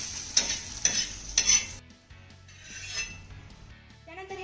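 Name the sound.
green chillies roasting in a pan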